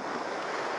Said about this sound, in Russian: Сейчас волна пройдет.